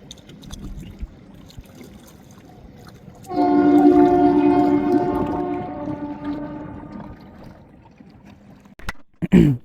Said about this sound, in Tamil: நம்ம பாமன் பாலத்துலேருந்து ட்ரெயின் போகுதுங்க